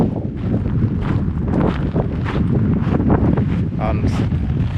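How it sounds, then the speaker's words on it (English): Wind blowing across the summit crater of Montana Roja, a volcanic cone near Playa Blanca on Lanzarote, buffeting the microphone in loud, uneven gusts, with a voice faintly mixed in. "Because we're inside the crater, the wind isn't too bad now."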